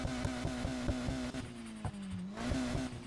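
A tuned car exhaust in the racing game Need for Speed Heat throbs with a low, steady engine drone and rhythmic pulsing, then briefly dips and climbs again, loud and close.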